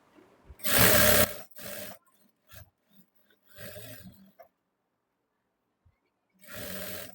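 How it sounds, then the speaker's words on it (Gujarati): A sewing machine runs double stitching on a princess-cut blouse, in several short separate bursts of whirring with quiet pauses between them, close and clear. "હવે એમાં જ આપણે બીજી ડબલ સિલાઈ લગાડવાની છે, એટલે એકદમ સિલાઈ પાકી થઈ જાય."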